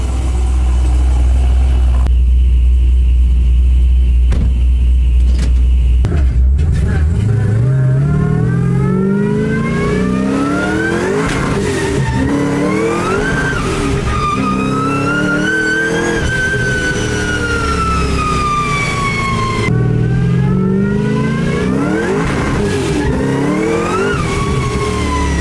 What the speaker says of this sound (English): She's back up and going. Letting it warm up, take it on a test drive.